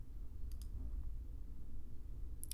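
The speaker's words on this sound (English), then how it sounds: "Click Submit." A single mouse click on a Submit button, then a second faint click near the end, against a quiet background hum.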